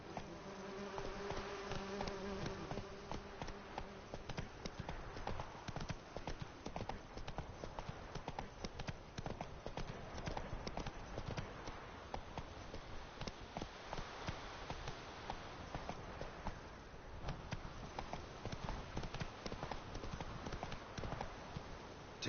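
Roach, a horse in The Witcher 3, gallops with steady rapid clip-clopping hooves throughout, accompanied by a constant buzzing insect-like ambience and no talk.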